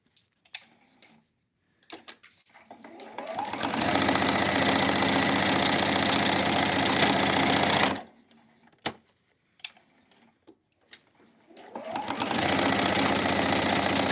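A sewing machine top stitches the first section of a zipper pouch: a long steady run of rapid needle chatter that stops, a few small handling clicks, then a second stitching run. Close and loud, with no talk.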